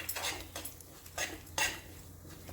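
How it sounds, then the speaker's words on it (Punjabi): A spoon mixes mustard seeds and fennel powder in a bowl for amla pickle, with quiet clinks and scraping strokes in a loose rhythm, close but faint, with no talking. "ਇਹਨੂੰ ਆਪਾਂ ਚੰਗੀ ਤਰ੍ਹਾਂ ਨਾਲ ਮਿਕਸ ਕਰ ਲੈਣਾ ਹੈ"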